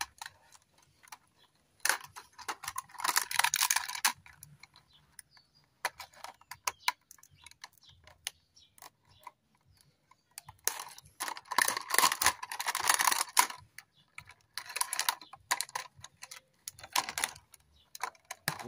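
Scissors snipping through a plastic bottle being made into a pinwheel, quiet irregular crisp cuts coming in two clusters with pauses between, close up and without talk.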